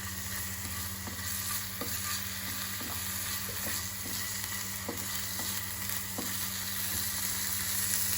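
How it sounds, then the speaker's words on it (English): Ginger sautés in a pan, a steady hissing sizzle under a constant low hum, with evenly spaced clicks of a spatula stirring about once a second, close and moderate in level with no speech. "Ginger. We will saute it in."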